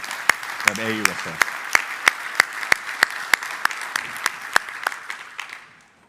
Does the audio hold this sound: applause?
yes